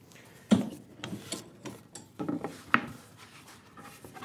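A hand plane takes shavings off a wooden board edge during edge jointing, giving a few short, close rasping strokes separated by quiet pauses.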